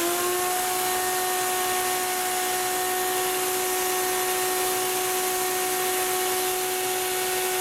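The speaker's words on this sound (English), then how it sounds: "So I got the shop vac hooked up and it's blowing air out." A shop vac pushes air through the radiator of a 2012 Gas Gas EC300 motorcycle, a loud constant motor whine with a steady rushing roar that holds unchanged for the whole stretch.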